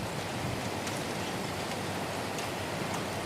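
Steady rain falling in a Minecraft horror mod, a dense even hiss of drops with no pauses and no other sound over it.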